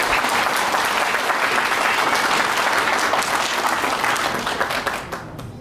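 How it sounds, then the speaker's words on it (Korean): Wedding guests in a grand ballroom give a big round of applause, a dense, sustained wash of clapping that holds steady before fading out near the end. "큰 박수 부탁드립니다."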